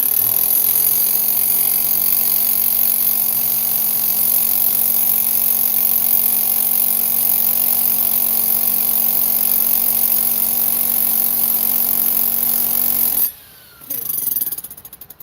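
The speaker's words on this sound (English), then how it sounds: "let's see if we use jackhammer" Jackhammer breaking material, a loud continuous rapid hammering drone held close for most of the stretch, then cutting off abruptly near the end before a brief burst of further noise.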